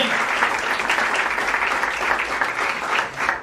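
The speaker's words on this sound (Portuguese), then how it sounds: "Então aplauda ele bem forte, em nome de Jesus." Loud, enthusiastic congregation applause fills a church, a dense continuous wash of clapping close up that holds steady for the whole stretch.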